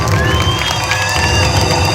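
A large crowd at a church convention in Bindhanpali, Orissa, cheering and clapping for Jesus, loud, continuous and roomy, with shouting voices layered over the applause.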